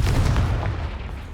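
A Confringo fire spell bursts in Hogwarts Legacy as one short, loud, booming blast with a brief crackling tail that fades quickly.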